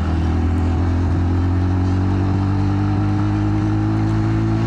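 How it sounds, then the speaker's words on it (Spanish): Bajaj Avenger 220 cruiser motorcycle with a 220 cc engine riding at speed, a steady low engine drone with strong harmonics and wind rush throughout, close and continuous. "Para hacer el tamaño de motor de 220, es una moto que tiene bastante power."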